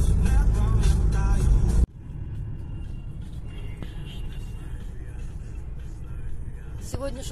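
A car cruising on the Kyiv–Chop highway in the Carpathians, a steady low road rumble from inside the cabin after a loud burst of noise at the start.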